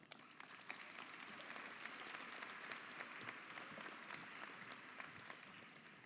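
An audience at the 2017 Mountain View High School graduation claps in a steady, even round of applause from many hands, fairly distant and soft, lasting several seconds.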